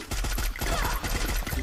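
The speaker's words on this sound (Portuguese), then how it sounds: "Tiro na cabeça, tiro na cabeça." Rapid gunfire from the Free Fire battle royale game, a dense run of loud repeated shots filling the whole short moment with no voices over it.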